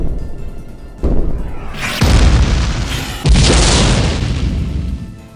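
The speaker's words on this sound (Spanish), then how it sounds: "Ahora Nagato dispara." Loud cinematic boom and explosion effects after a shot is fired in an anime-style fan drama, two big blasts with rumbling decay, heard alone and close.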